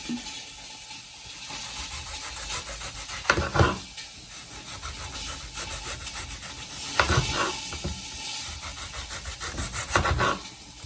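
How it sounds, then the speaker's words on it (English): A knife slicing through a peeled onion on a cutting board, soft repeated scraping and chopping strokes with a few sharper cuts, fairly quiet and close. "Once the onion is peeled, time to slice it."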